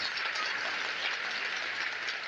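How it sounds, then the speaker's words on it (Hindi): A large crowd applauds at a mass wedding ceremony for brides, a dense, loud, steady wash of clapping with no break. "जोरदार ताली बजा करके स्वागत करो।"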